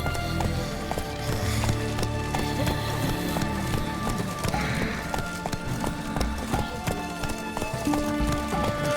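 Geralt's horse Roach gallops in The Witcher 3, a steady rapid clip-clop of hooves running close by over a dense game soundtrack, with a brief snort or whinny and a voice calling out.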